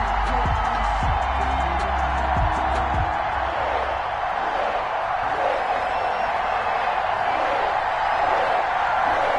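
A stadium crowd in an EA Sports football video game keeps up a steady, loud roar and cheer throughout, with a few low thumps near the start and faint commentary voices underneath.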